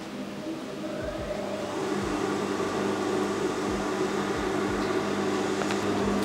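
Sewing machine switched on and idling, a steady close mechanical hum with a low vibrating buzz and faint rhythmic thumps, continuous throughout with no talk.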